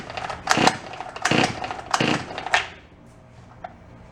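A small engine on a garage-sale power tool is pull-started without catching, four rasping cord tugs in quick rhythm, each a short whirring burst, followed by quiet.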